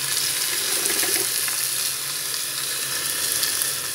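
Chicken pan-frying in hot oil in a non-stick pot for a coconut green curry gives a steady, close, even sizzle with no talking.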